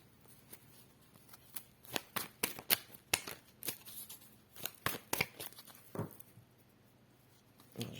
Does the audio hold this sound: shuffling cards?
yes